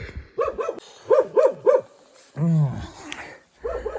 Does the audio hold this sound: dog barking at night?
yes